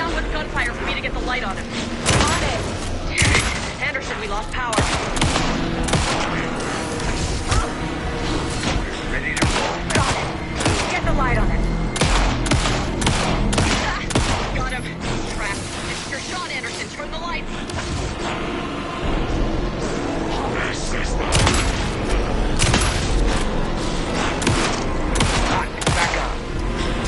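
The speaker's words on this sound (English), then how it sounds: "Anderson, pin him down with gunfire for me to get the light on him" Rapid bursts of gunfire in the video game Alan Wake 2 crackle continuously, with loud volleys and explosions layered under shouted voices.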